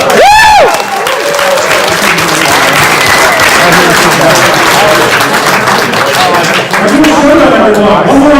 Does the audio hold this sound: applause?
yes